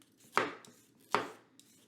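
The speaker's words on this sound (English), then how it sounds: "I feel like I'm going too slow for the chopping" Two crisp knife chops land on a cutting board as vegetables are cut for vegan wraps, spaced under a second apart, close and fairly quiet with no talk.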